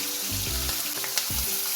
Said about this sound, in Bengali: মাছগুলো এখানে ভাজা হয়ে গেছে